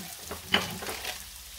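Basmati rice and onion fry in a pan, a brief close sizzle with a soft hiss and one sharp crackle as the rice goes in.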